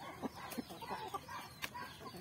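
Farm-raised chickens cluck in short, irregular bursts, a few sharper calls standing out against a soft, constant background hum, fairly close by.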